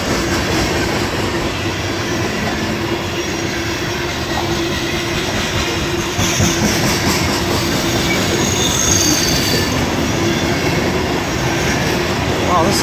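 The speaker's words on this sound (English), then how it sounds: "Wow, this is a really long train." A long CSX freight train of boxcars rolls steadily past close by, with continuous loud wheel rumble, clanking and squealing throughout.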